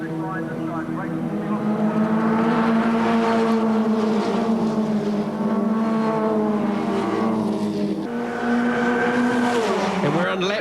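Formula Ford race cars battle at Pukekohe, their engines droning loud and continuous, rising and falling as the pack passes, while a commentator talks over the racing.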